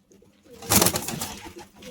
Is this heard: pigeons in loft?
yes